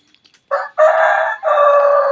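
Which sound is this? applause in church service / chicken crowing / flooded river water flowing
chicken crowing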